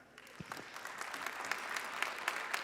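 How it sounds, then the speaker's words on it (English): A theater audience at a magic and escape-artist show breaks into clapping on cue. It starts faint and swells into a fuller, steady round of applause that sounds somewhat distant in the room. "if you've heard of Harry Houdini, clap right now"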